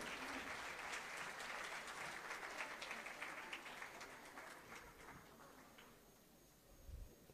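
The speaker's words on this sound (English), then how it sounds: "So as they exit, a round of applause for them." An audience claps at a conference and expo in Somalia, a broad round of applause heard from some distance that slowly thins and fades toward the end, with a brief low thump near the close.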